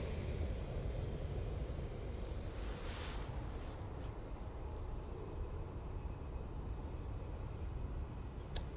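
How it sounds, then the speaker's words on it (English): TUI airliner taking off at Manchester Airport, a steady, broad roar of jet engines heard from a distance, holding at an even level throughout with no voices. "that's pretty late rotation there from that TUI"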